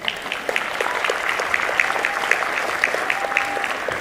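A live studio audience at a fan convention panel claps in a steady patter of many hands, with a few brighter individual claps and faint voices mixed in.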